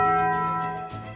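A single church bell strike rings out loud and close, its sustained metallic tone slowly decaying over about a second with no voices.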